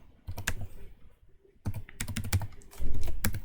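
Someone types SQL code on a computer keyboard in irregular bursts of close, crisp key clicks. Brief pauses separate the bursts, and a denser flurry of keystrokes comes near the end.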